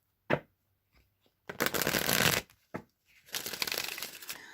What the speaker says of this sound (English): I'm just going to shuffle now 3 times, cut the deck, and draw 3 cards